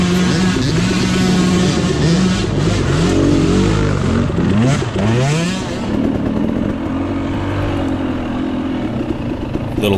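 KTM 300 XC-W two-stroke dirt bike engine revving and bogging on a muddy woods trail during a hare scramble, loud and close throughout with rising and falling pitch sweeps, no talk.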